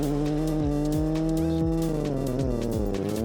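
A rally car held in second gear roars past the finish line of a stage on a Poland trip, the engine loud and close with a steady high rev that drops and climbs again through the run.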